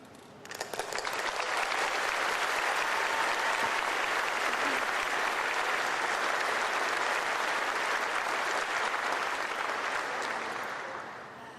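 An audience breaks into sustained applause at a formal event, dense, even clapping that starts abruptly, holds steady for several seconds and then tapers off near the end.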